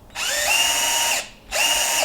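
A power drill whirs at high speed in two bursts, drilling marks onto an anvil: a long steady run, a brief pause, then a second run, loud and close.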